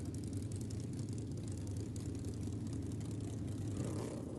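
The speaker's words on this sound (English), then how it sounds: "There's nothing like the sound of supercharged Harleys here at Aeroflow Race for Real." Supercharged Harley-Davidson V-twin motorcycle engines rumble at a race event, a steady, loud, dense low drone that holds without a break throughout.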